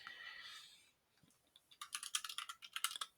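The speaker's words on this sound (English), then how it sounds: "Let me just type it in." Faint keyboard typing on a computer, a short burst of quick, crisp key clicks after a brief swishing sound and a near-silent pause, close by with no voices.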